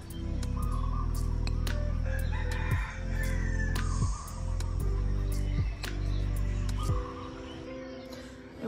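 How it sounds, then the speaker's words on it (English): Rooster crowing repeatedly among clucking hens in a backyard flock on Kauai, loud and close, several long crows in a row with scattered bird calls around them. "I love these chickens. They just live in our yard. They wake us up."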